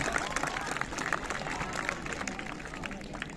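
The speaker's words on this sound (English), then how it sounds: "give them a big round of applause" At a district-level inter-school sports prize ceremony, a crowd applauds the champion teams, a faint, continuous patter of clapping from a distance mixed with crowd murmur and voices.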